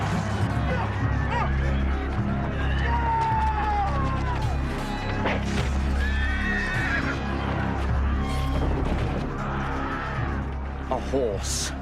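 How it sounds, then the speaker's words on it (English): A horse neighs during a stage battle scene in Shakespeare's Richard III, its whinny rising over continuous crowd and battle noise while actors speak throughout. "A horse."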